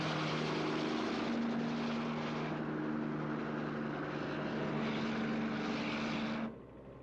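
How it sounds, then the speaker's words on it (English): A helicopter flies continuously, a loud steady droning engine and rotor roar with a sustained tonal hum, holding level for several seconds before cutting off abruptly near the end. "We'll take the chopper."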